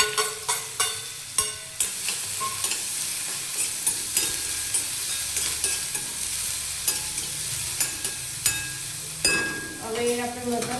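Chopped vegetables hit hot oil tempered with mustard seeds, cumin, asafoetida, garlic and chilli, giving a steady close sizzle punctuated by sharp spoon-against-pan clinks and scrapes, with a louder burst of stirring near the end.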